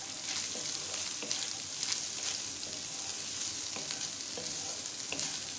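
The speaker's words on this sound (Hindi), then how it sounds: "हमने बस लाइट सा सौते करनी है सब चीज़ें" Boiled chicken and other ingredients being lightly sautéed in a pan, a continuous bright sizzle with occasional stirring scrapes, close and steady, no talking.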